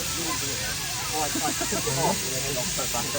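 A steam locomotive at a station vents built-up steam as a steady, loud broadband hiss filling the whole clip, with someone talking over it.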